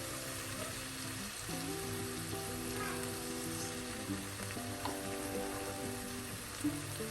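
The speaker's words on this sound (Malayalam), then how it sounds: "അതൊന്ന് നന്നായി ഒന്ന് എണ്ണയിൽ മൂപ്പിക്കാം" Turmeric powder fries in hot oil for a pepper chicken dish, giving a quiet, steady sizzle with soft crackles throughout.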